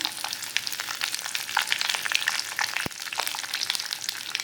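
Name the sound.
curry leaves frying in hot oil with mustard seeds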